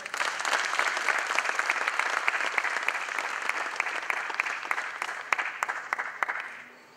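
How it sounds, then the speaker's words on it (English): An audience at an IT awards ceremony gives sustained applause, dense clapping that holds steady for several seconds before fading out. "A huge round of applause for their support."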